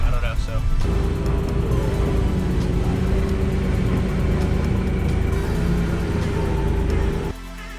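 A car drives steadily along the road, its engine hum and tire rumble continuous and close for about seven seconds before the noise drops away abruptly.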